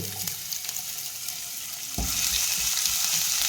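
Ginger goes into hot coconut oil, and a soft background hiss jumps abruptly into a loud, steady crackling sizzle that holds close and continuous, with no voices.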